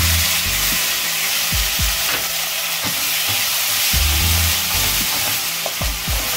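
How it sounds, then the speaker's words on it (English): Onion fries on high flame, a steady loud sizzle of hot oil with frequent scraping strokes of a spatula against the pan, close up and continuous. "And fry it on high flame until the onion becomes light golden brown."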